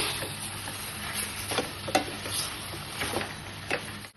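Chicken frying in butter in a pan, a soft steady sizzle with intermittent scrapes and taps of a stirring spoon, quiet and close, with no voices.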